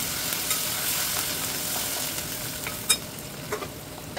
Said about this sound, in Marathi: आता इथे मी कढीपत्ता टाकलेला आहे